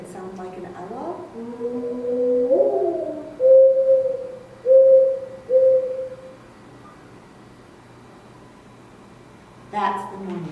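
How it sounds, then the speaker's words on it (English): A mourning dove gives a soft, mournful coo: a rising note followed by three low, steady hoots, then quiet with a brief voice at the end. "That's the mourning dove."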